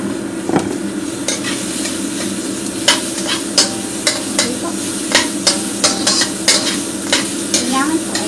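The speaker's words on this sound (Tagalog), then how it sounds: "Pagkatapos, ihuhulog ko na po ang sitaw." Sliced string beans hit a hot frying pan with a sustained sizzle, while a utensil stirs and scrapes, giving repeated sharp clinks against the pan over the steady frying noise.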